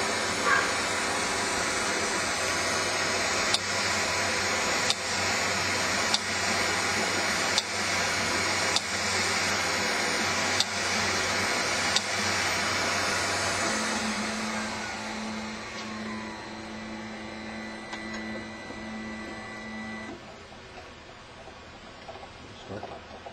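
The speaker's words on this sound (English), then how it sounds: "Now, even though the spindle is running, it really isn't going to hit." A CNC engraver spindle runs through an engraving job for ADA signage, a steady loud mechanical whir with faint regular ticks, dropping to a quieter hum with a tonal drone near the end.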